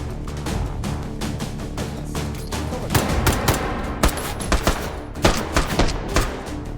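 Gunfire in the VR shooting game H3VR: a rapid, irregular string of close shots, with several sharper, louder bursts toward the end and no talking.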